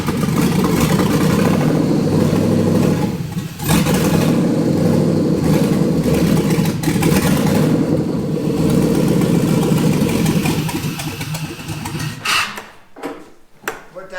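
A Chevrolet Corvair engine starts and runs loud and steady for about twelve seconds with fluctuating revs, then cuts out, leaving a few brief knocks and sputters.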